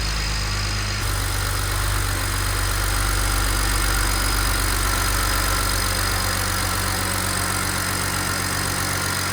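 A BMW 335i's newly fitted N54 engine idles steadily with a deep, even rumble and a constant hum, running alone without any talk.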